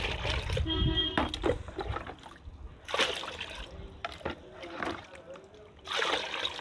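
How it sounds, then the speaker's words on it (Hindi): Water poured into a pot holding a water lily plant, splashing and trickling in several separate bursts under ongoing talk by a man. "थोड़ा मैं इसमें और पानी ऐड कर लेता हूँ"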